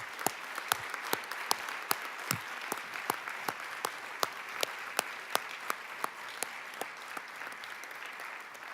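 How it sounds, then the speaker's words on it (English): Applause for award winners at a UN staff awards ceremony, heard as a thin, steady run of individual claps, fairly quiet and spaced, as though from a small group or a distant hall. "May just invite a round of applause"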